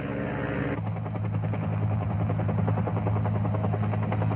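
A Huey slick helicopter launching for a pickup, its rotor thumping in a rapid, steady beat over a loud low turbine roar that holds for several seconds.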